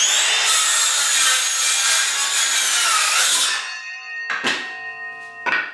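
A hand saw cuts steadily through a 2x8 board clamped in a plate vise, with a dense, continuous rasping for about three and a half seconds, then two short, ringing strokes at the end.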